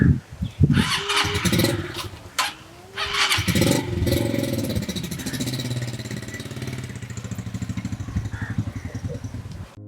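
A boda boda motorcycle taxi engine starts with a few sputters, then settles into a steady nearby running drone with rhythmic pulsing as it rides off.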